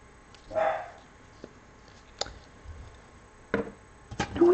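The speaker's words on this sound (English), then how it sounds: "She's such a noisy pup." A noisy female puppy gives a few short, scattered yips and barks with a brief whimpering whine in between. The sounds are close and intermittent, separated by quiet gaps.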